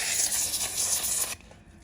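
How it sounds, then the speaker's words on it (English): A single sustained hiss of a spray bottle spraying, close and fairly loud, lasting over a second before cutting off. "I'll give it another spray."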